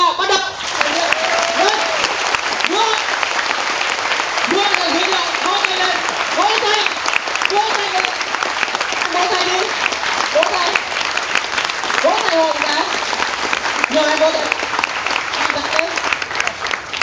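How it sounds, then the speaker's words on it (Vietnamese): An audience claps steadily and densely throughout on cue at a finance talk, sustained applause from a large crowd with a voice speaking over it at intervals. "Đề nghị tất cả vỗ tay của tôi cái."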